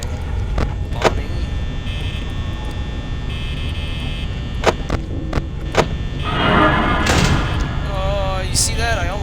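In Five Nights at Freddy's, a few sharp thuds and knocks hit the walls, spaced irregularly over a steady electrical hum, with a voice talking over them.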